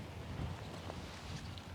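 Steady wind blows across an outdoor allotment on a blustery day, a constant broadband rush with low rumbling gusts buffeting the microphone, no voices.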